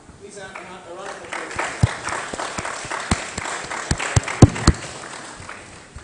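Audience applause at a career fair: a broad wash of clapping from a seated crowd with sharper individual claps popping out, swelling over a few seconds, moderately loud and alone without talk.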